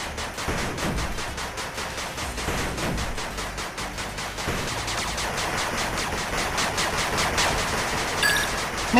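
A machine gun turret under attack in the game 8-Bit Armies fires rapid, loud, continuous bursts of gunfire for the whole stretch.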